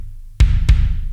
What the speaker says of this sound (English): so when it's processed, it should sound something like this